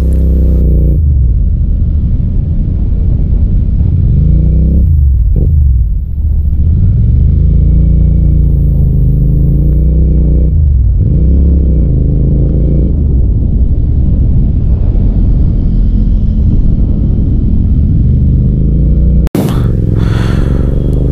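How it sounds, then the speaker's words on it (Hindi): A motorcycle with a loud aftermarket exhaust accelerating hard, the deep engine rumbling and rising in pitch through repeated revs, close and powerful. "इसका एग्जॉस्ट नोट सुन रहे हैं आप लोग, क्या लाउड है भाई साहब"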